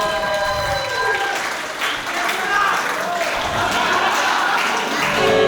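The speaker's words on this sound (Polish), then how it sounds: "brawa, bardzo ładnie, bardzo ładnie" Wedding guests at a reception hall applaud after a folk song by the band, a full, continuous wave of clapping with voices and lingering musical tones mixed in.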